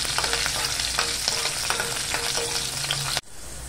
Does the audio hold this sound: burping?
no